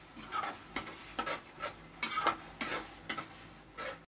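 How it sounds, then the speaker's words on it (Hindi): Masala roasting on a low flame for a matar aloo curry, stirred with rhythmic scraping strokes about every half second over a faint sizzle, close and quiet, no voices. "लो फ्लेम पे इसे अच्छे से भुनने देना है फ्रेंड्स"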